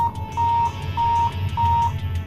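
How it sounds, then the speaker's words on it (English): A Brandmotion radar blind spot monitoring system gives its audible turn-signal alarm, a steady repeating electronic beep of four evenly spaced tones close up, over a low rumbling vehicle hum. "Activating the left or right turn signal triggers an audible alarm and makes a warning light flash."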